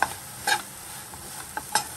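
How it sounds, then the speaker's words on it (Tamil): Jaggery syrup being stirred into grated coconut in a pan for pooranam kozhukattai filling, with a few short scraping strokes over a soft steady sizzle and no voices. "அந்த வெள்ளைப்பாகை வந்து நான் அந்த தேங்காயில் ஊற்றிக்கிறேன். ஊற்றி நல்லா அப்படியே கிளறணும்."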